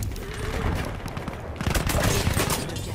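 Dense, loud automatic gunfire from a Counter-Strike match, rapid shots overlapping into a continuous fusillade for the whole stretch with no voices.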